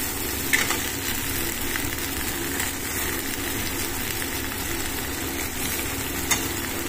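Bhetki fish pieces dropped into hot oil with spices for a fish korma, giving a dense, continuous hissing sizzle that stays steady and close throughout, with only a couple of faint knocks and no voices.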